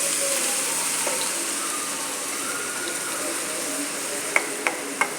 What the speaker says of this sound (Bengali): ভাজতে হবে এটাকে।